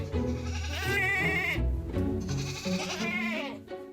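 Icelandic goats bleating loudly and close by, several long wavering calls overlapping one after another with brief gaps between them.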